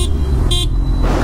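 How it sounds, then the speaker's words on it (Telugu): A motorcycle horn gives two short, bright honks, the first brief and the second slightly longer, over a loud, close rumble of the engine. "హార్న్ మాత్రం నెక్స్ట్ లెవెల్."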